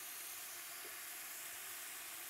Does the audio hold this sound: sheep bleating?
no